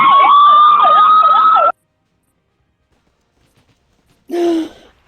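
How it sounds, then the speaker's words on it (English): A loud wailing ambulance siren sweeps up and down for under two seconds, then cuts out to silence before a brief burst of another sound. "No, 2 ambulances on both sides of the road."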